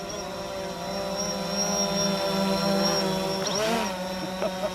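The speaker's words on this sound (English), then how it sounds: "See up in the distance, we got a little bit of the drone action." A drone flies in the distance over a backyard garden, giving a continuous multi-toned propeller whine that holds steady and then shifts pitch near the end, loud and unbroken throughout.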